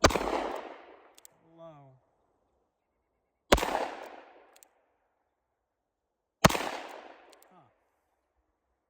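Three loud, sharp shots from a Rock Island Armory M206 .38 Special snub-nose revolver fired single action at an outdoor range, spaced about three seconds apart, each with a short decaying echo, a brief voice between shots.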